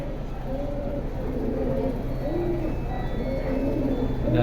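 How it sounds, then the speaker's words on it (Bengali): Caged pigeons at a pigeon sale coo in soft, repeated rolling calls, layered over a steady background hum. "মানি পুরা খাঁচা শব্দ বানায়"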